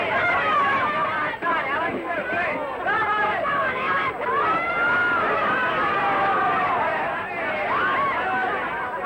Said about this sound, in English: and the crowd loves every minute of it